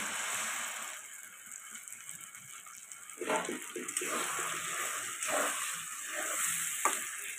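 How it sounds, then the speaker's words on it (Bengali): Taro root paste hitting hot oil seasoned with black cumin, giving a steady close sizzle with louder bursts and scraping stirs as the paste cooks, with no voices. "এবার আমি বাটাটা তেলে ছেড়ে দিচ্ছি।"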